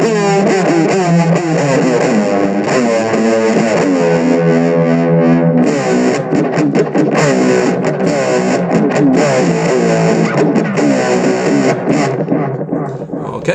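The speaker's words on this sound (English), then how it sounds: "some straight up distortion there, that's sounding pretty good" Heavily distorted electric guitar played through a pair of Logitech UE Mini Boom speakers, loud and sustained with ringing chords and shifting notes throughout, no talking.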